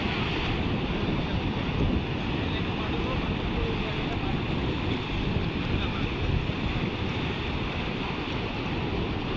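Steady surf and breaking ocean waves at Laboni Beach in Cox's Bazar, a continuous wash of water with wind buffeting the microphone throughout, no pauses.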